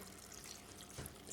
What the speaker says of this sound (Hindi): दूसरी तरफ हमने ये फ़िल्टर वाटर लिया और इसको अब हम इसमें डालेंगे।